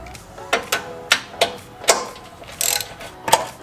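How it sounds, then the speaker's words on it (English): Ratchet wrench with a 15mm socket backing out winch mount bolts, a run of close, crisp clicks in short uneven bursts, loud and alone. "Now we're going to remove the 4 bolts from underneath using a 15mm socket."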